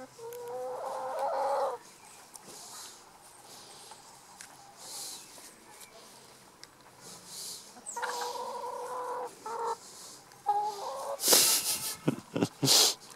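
A hen clucks in bursts across a farm setting, near and moderately loud, with a few sharper, louder squawks and rustling toward the end and quiet stretches between calls.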